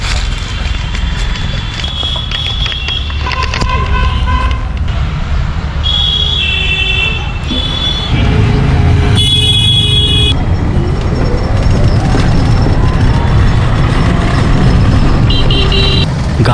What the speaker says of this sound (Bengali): গাড়ি এবার ঢুকছে ধর্ণকুড়িয়া গ্রামের আরও ভিতরে।